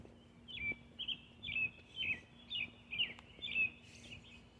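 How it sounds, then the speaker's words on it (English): Songbirds call in the early morning, a series of about seven bright, clear chirping phrases repeating at a steady pace, moderately near over a faint low hum with no talking. "The birds wake up in the morning."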